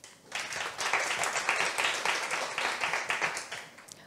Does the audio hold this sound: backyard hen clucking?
no